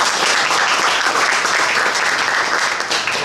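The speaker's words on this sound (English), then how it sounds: "Can we get a round of applause for Jason?" Audience at a legal panel for cannabis operators applauds an insurance speaker, loud sustained clapping from a full room that carries on throughout without talk.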